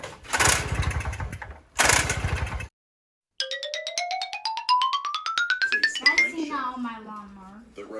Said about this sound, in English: Let's see if we can get this thing to start